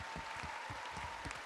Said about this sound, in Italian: Facciamo arrivare ai fratelli catalani il nostro calore con un applauso enorme, fragoroso